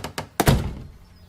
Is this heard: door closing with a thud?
yes